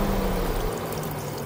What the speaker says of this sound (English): chuck the liquid molly in